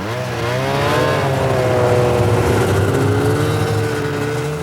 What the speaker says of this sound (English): As our revving engines rudely shatter the tranquility of an Arctic morning